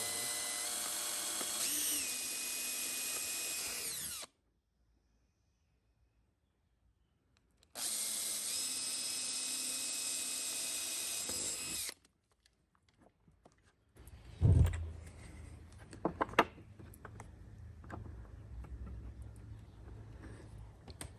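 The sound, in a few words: power drill drilling pilot holes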